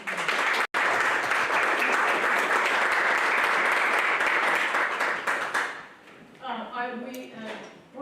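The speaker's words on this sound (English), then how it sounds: "we should start with another round of applause" A large audience at a tournament-style event breaks into loud, sustained applause that fills most of the stretch, then thins out and fades while a few voices speak over the tail end.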